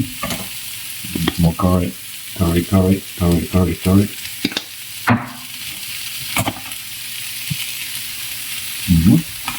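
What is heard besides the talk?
tofu being fried and stirred in a pan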